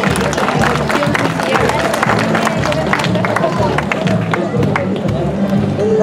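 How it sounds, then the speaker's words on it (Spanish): A crowd claps along a parade route at a November 20 parade in Tepalcingo, steady loud applause mixed with crowd murmur and footsteps, with a voice speaking over it. "Un fuerte aplauso para ellos"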